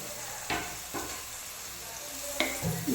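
Small cut paneer pieces fry in a pan with an already sautéed mixture, giving a quiet, even sizzle with a few sharp scraping knocks from a utensil, and no one speaking.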